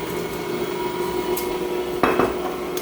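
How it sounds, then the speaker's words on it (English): A spatula scraping down a mixing bowl of chocolate cherry thumbprint cookie dough, a steady soft scrape followed by a sharper clattering knock against the bowl near the end, close up with no talk. "We've got our spatula. We're going to need to scrape down the bowl a couple times."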